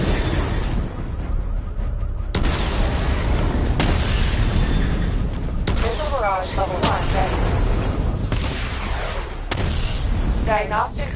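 Missile barrage explosions in the video game Batman Arkham Knight, a run of heavy booming blasts and bursts in rapid succession, loud and close, with game voices talking over the blasts.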